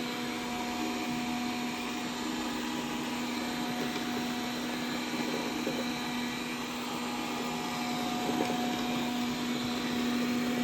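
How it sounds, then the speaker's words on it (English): Dreame D10 robot vacuum cleaner running indoors: a steady, moderately loud motor whine with a constant tone, continuing without a break and with no voices over it. "We need to stop the Hoover and put it in here."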